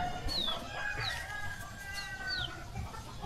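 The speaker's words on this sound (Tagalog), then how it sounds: "Ang daming manok." Several chickens cluck and squawk nearby in a Mangyan village in Mindoro, with short rising calls scattered over a steady outdoor background hum.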